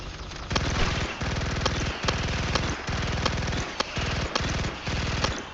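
An automatic shotgun fires in Starship Troopers Extermination, loud and close in a run of about six rapid bursts separated by short pauses, with no talking.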